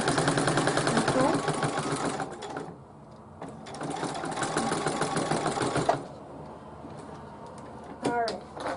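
A sewing machine runs in close, steady bursts of rapid stitching along a pillowcase seam, pausing briefly between runs, with a voice talking over part of it.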